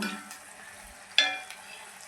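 Pumpkin pakoras deep frying in hot oil give a soft, faint sizzle, with one brief sharp clatter partway through.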